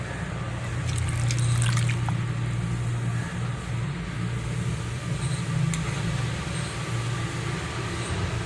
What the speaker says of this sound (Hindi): अब हम वीवर्स इसमें थोड़ा सा पानी ऐड कर लेंगे ताकि जो गुड़ डाला है वो मेल्ट हो जाए।